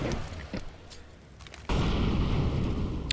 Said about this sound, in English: Flashbang to get information.